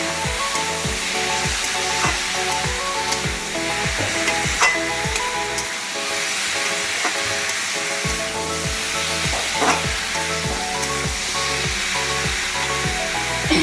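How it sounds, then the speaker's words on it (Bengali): Fried potatoes and pointed gourd tossed with spices in a pan, a steady close sizzle under a regular rhythm of spatula scrapes and knocks against the metal, with no talk. "ভাজা পটল এবং ভাজা আলু দিয়ে ভালোভাবে মশলার সাথে মাখিয়ে নিচ্ছি।"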